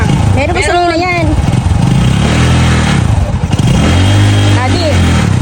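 A motorcycle on a tricycle rig is cranked and revved, its engine rising and falling in bursts, with voices talking over it up close.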